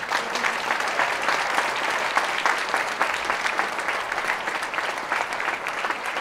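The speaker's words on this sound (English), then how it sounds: "Please, can we give them a round of applause?" Dense audience applause at a secondary school sports awards ceremony honoring under-19 student athletes, many hands clapping steadily and loudly for several seconds without a break.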